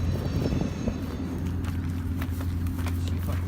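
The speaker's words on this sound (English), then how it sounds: "We've got a plane here?" A plane drones overhead near abandoned passenger trains, a steady low engine rumble throughout with scattered crunching footsteps and movement close by outdoors.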